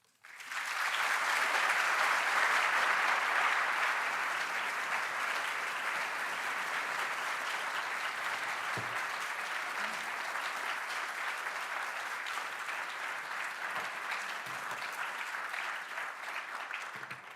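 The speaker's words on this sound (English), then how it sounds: "It's lovely to get a round of applause before you've said anything." An audience at the 2024 Erasmus Lecture bursts into loud, sustained applause welcoming the lecturer. The clapping swells quickly and holds steady for over fifteen seconds.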